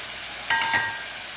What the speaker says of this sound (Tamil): போட்டு நல்லா வதக்கிடுங்க எல்லாத்தையும்